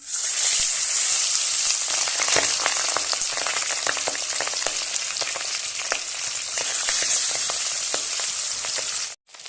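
Pabda fish fries in hot oil with a loud, dense, steady sizzle and scattered crackles and spits, close up throughout until it cuts off abruptly near the end.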